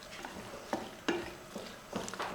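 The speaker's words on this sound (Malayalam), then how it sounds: "ഒരു 2 ടേബിൾ സ്പൂൺ അളവിൽ വിനാഗിരി ഒഴിച്ചതിന് ശേഷം അതൊന്ന് ഇളക്കി കൊടുക്കണം." Curry lemon pickle being stirred after vinegar is added, a spoon scraping and clinking in the pan with a few sharper knocks over a faint sizzle, close and fairly quiet, no talk.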